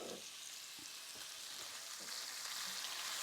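Pork tenderloin browns in a hot pan with a soft, continuous sizzle and hiss, broken by a few faint pops and spits, heard up close but quietly and alone.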